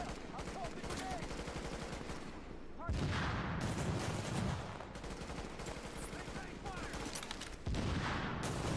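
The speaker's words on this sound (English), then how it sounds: "I'm tossing grenades" Grenade blasts and rapid gunfire in the video game The Division during a Blackout global event, dense bursts of shots with heavy booms punching through, loud and close, while voices talk over the combat.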